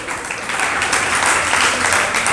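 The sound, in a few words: audience clapping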